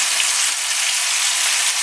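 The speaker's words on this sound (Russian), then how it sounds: "Так, рыбка начала жариться." Fish fries in a hot pan, giving a loud, steady, dense sizzle with no break and no voices.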